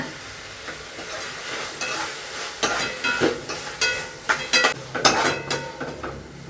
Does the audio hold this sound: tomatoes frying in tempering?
yes